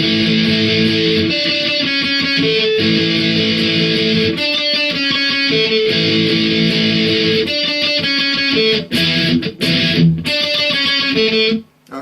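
Distorted electric guitar plays a verse riff, taken nice and slow: dense, loud chugging chords and palm-muted patterns repeating steadily with no talk, briefly breaking near the end.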